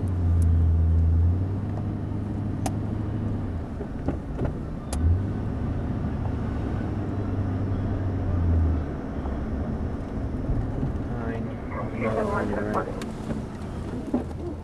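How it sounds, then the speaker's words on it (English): Cars drive along city streets at night, a steady low traffic rumble with passing engines, faint voices in the background. "A lot of cars up here too, so."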